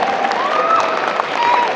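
A convention crowd at Nostalgia Con 2025 applauds in a dense, steady wash of clapping filling the room, with a faint tonal whistle riding over it.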